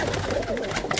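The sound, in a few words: breeder pigeons cooing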